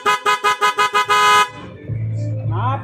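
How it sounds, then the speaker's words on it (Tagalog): A Honda TMX Alpha 125 motorcycle horn blares in six quick rhythmic toots followed by one longer blast, loud and close, then a low hum and a voice afterward. "Ganda ng busina niya tapos nasasayang lang."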